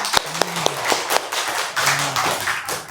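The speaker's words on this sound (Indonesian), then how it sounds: "Oke, tepuk tangan untuk kalian semua." Scattered hand claps and taps from a small group of schoolchildren, sparse and uneven rather than full applause, fairly close with some room noise.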